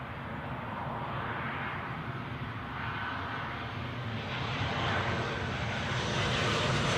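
A heavy jet airliner, a British Airways Boeing 777, passes near London Heathrow airport with a loud, steady, broad roar that swells slightly toward the end, without talk.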